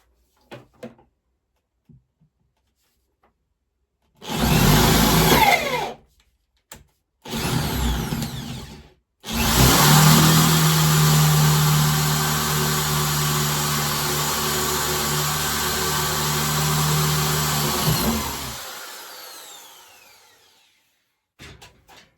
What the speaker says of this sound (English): the drill, as it goes through one piece of wood into the other piece of wood, has gotten stuck